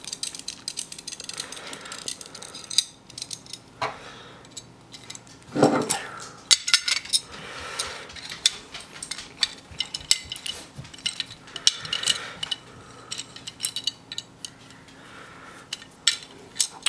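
Metallic clicks and scrapes of a spanner tightening brake pipe fittings, a steady run of small clinks and taps with a louder clatter near the middle, close by and with no talk.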